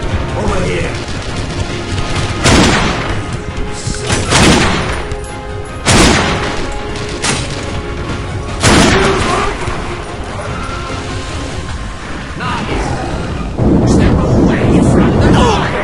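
Video game gunfire in The Darkness II, loud sharp blasts at irregular intervals over a constant noisy battle backdrop, with a voice talking between the shots.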